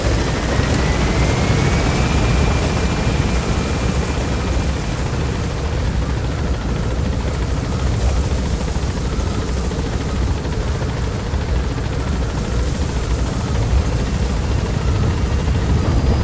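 A military helicopter in Metal Gear Solid V roars steadily through its takeoff, a dense, loud rotor and engine wash holding constant with a faint rising whine, no voices.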